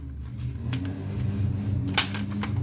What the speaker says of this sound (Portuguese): Tá passando um carro barulhento aí na rua, não ligue não, tá? Passando um Opala.